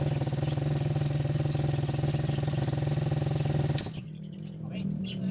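A motorcycle engine with bad valve clearance idles in a fast, even tapping chatter, loud and close, then cuts off abruptly near the end, leaving faint background noise and a little speech.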